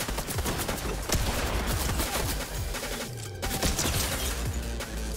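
Rapid bursts of pistol gunfire from a Fortnite battle rattle almost nonstop, dense and loud, with overlapping shots and a brief lull near the middle.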